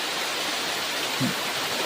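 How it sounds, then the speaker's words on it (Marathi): Steady, loud rushing water roars without a break, a broad hiss like a nearby waterfall. "जबरदस्त असा बघा धबधबा"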